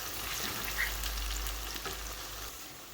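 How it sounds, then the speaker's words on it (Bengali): Onions fry in a pan on a stove, a faint, even sizzle with light crackles and no talking. "এখন পেঁয়াজটা ভাজা ভাজা হয়ে আইছে"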